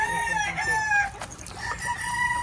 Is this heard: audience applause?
no